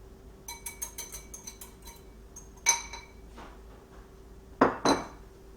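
Chocolate chip cookie dough being mixed in a bowl, with a utensil clinking and scraping against the bowl in irregular bursts, a few sharper knocks near the end, close up with no talking.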